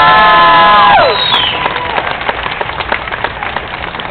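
A Boston audience at a contortionist's stage show breaks into scattered clapping and a little cheering after a voice trails off, the patter of hands continuing steadily at moderate volume.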